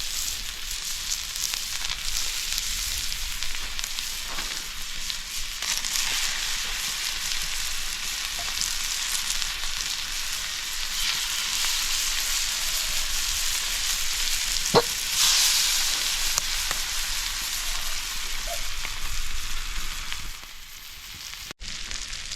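River fish fry in a pan with curry leaves outdoors beside a pond, a constant loud hissing sizzle running throughout with one brief sharp tap and a small dip near the end.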